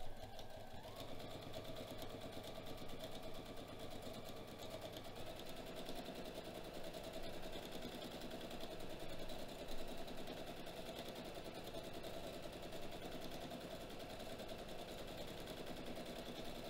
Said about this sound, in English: I need to go a couple more stitches.